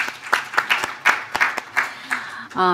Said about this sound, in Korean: 두 분 박수 보내드리시죠